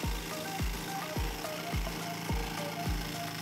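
Cassava roots being shredded in an electric grinder, a loud steady grinding whir with repeated low thumps about every half second as pieces are pushed through, no voices.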